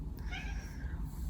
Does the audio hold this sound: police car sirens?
no